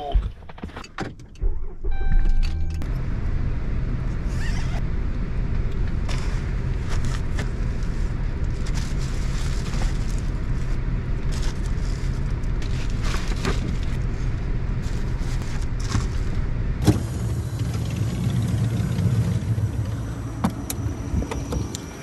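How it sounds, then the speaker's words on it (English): A car engine starts on a cold morning in an empty parking lot, then settles into a steady idle that runs throughout, with a few clicks and small handling noises on top. "Gonna start the car first."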